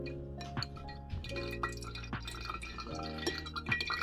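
Green juice drips and trickles through a kitchen strainer, soft liquid patter with occasional faint glassy clinks, steady and close for a few seconds with no talking.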